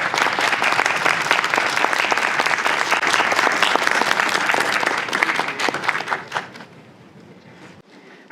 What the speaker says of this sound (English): let's give David another warm round of applause